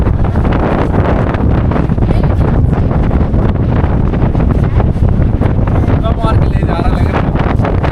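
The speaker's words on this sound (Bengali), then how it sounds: "ভীষণ হাওয়া, ঝড়ের মতন হাওয়া, সাইক্লোন চলছে মনে হচ্ছে।" Strong, storm-like wind on the beach at Mandarmani along the Bengal coast, roaring loud and continuous against the microphone for the whole stretch, with faint surf underneath.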